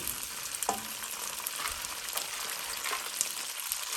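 Pine nuts toasting in a pan give a steady, close sizzling hiss with faint stirring scrapes and light ticks, no voices.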